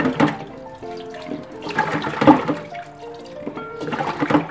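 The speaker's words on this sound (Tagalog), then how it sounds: "Kailangan hugasan nyo uli yan para mawala yung pinakadagdag niya." Water runs and splashes over grated cassava as it is rinsed for nilupak, in several surging bursts with gurgling, tonal sloshing close by.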